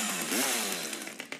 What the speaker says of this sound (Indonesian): ada mesin gergaji